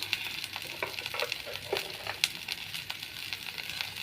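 Rohu fish sautéing with turmeric, chili and spices in a pan, a close, steady sizzle with frequent scraping stirs of a spatula layered over the crackle.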